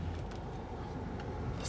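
A car's steady engine and road rumble fill the cabin on a test drive, a continuous low drone with faint clicks and rattles and no talking.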